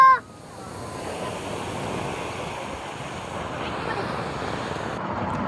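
Sea waves wash up onto a beach at Kollam in a steady, soft roar of surf. The wash is moderately close, mixed with some wind, and a brief sound at the very start gives way to continuous water noise.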